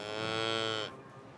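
A single drawn-out cow moo on a farm, rich and tonal, steady for almost a second before cutting off, close and clear with no voices.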